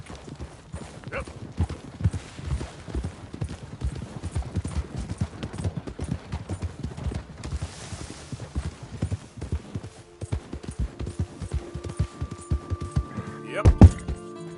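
Horse hooves clip-clop in a steady rhythm across open ground in Red Dead Redemption 2, a game horse trotting continuously at close range, with a brief whinny and some game sounds near the end.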